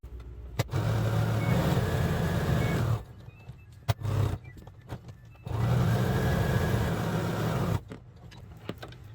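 A home sewing machine stitches a batwing costume piece for a dog, sewing over fabric loops in two sustained runs of motor hum with brief stops and clicks between them.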